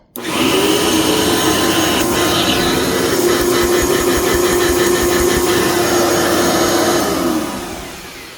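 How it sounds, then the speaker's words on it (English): A Bissell PowerPartner 800 vacuum cleaner with its hose attached roars loudly and steadily with a whining hum, running continuously for several seconds before winding down slightly at the end. "the thing is twice as loud when you've got the hose plugged in"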